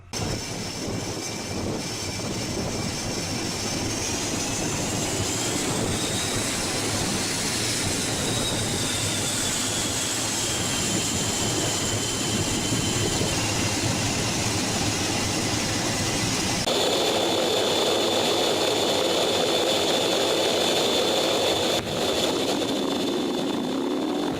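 A jet launched off an aircraft carrier by catapult: a loud, steady engine roar that rises in pitch as it surges, then shifts abruptly partway through, continuous with no voices.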